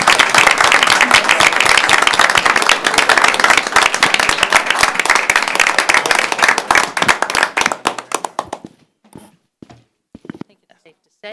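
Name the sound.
applause for the Belvidere bowling team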